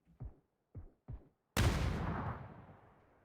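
Grenade explosion in PUBG: three short thuds, then a loud blast whose roar decays over more than a second, with no voices.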